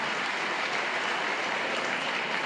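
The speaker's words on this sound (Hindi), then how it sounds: "एक बार तालियां बजा करके हमारे सर का स्वागत करें" Students at a school assembly clap to welcome a guest speaker, a soft, even patter of applause heard from some distance throughout.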